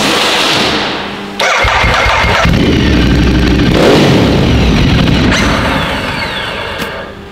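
A Ducati Diavel motorcycle engine cranks and fails to start, a loud, close grinding starter whir that cuts in abruptly and drones for several seconds, then fades away without catching.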